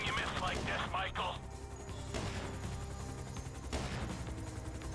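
Gunfire from FIB bullets in the GTA V video game: a few sharp shots ring out over steady game background noise, following a burst of talk at the start.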